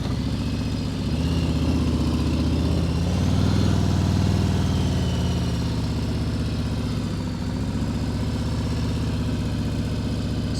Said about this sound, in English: you can actually hear that I had my engine raised just a little bit to keep myself, to keep the bike a little steadier